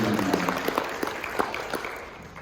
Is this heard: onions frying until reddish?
no